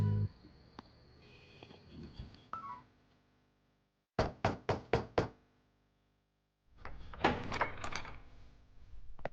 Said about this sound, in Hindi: इतनी देर से दरवाजा खटखटा रहा हूँ, खोल नहीं रहा है